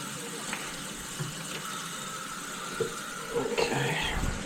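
Water runs steadily through a toilet's plumbing lines in a home bathroom, a continuous rushing hiss with a few brief surges toward the end and faint voices in the background.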